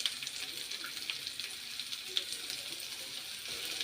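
Cabbage and carrot fry in oil for veg momos with a faint, continuous crackling sizzle and a few small pops scattered through it.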